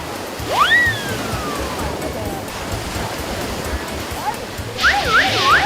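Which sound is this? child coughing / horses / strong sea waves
strong sea waves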